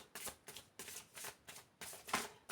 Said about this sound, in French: Alors, on va continuer ce tirage avec l'oracle des signes de Anne Tufigo.